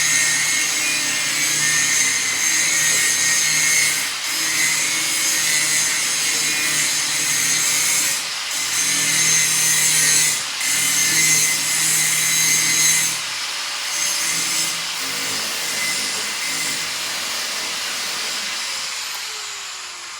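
Hand rubbing and polishing of a greasy metal rear end part from a 1988 NASCAR Winston Cup Buick, a continuous close hissing scrub that repeats in long, even strokes with brief pauses between them.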